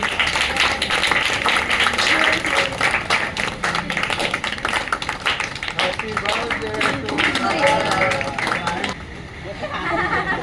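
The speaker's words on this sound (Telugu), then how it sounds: "క్లాప్స్ కొట్టండి" Crowd of women and children at a foundation's anniversary celebration in Hyderabad clapping, a dense patter of hand claps with background chatter, steady for most of the stretch before thinning at the end.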